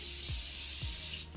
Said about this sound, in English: I go in with the Morphe setting spray just to give me that matte but glowy look as well